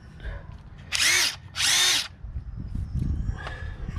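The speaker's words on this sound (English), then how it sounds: "a quick little review of these Ridgid subcompact impacts" A Ridgid 18 volt subcompact brushless impact wrench runs in two short loud bursts of whirring, close up, with quiet handling noise between and after.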